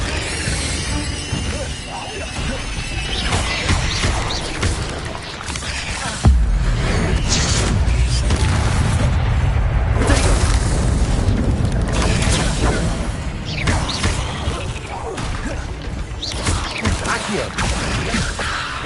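Fiery spell blasts from the Incendio charm in Hogwarts Legacy, loud and dense, with a heavy boom and rumble near the six-second mark that carries on as sustained crackling under game sound.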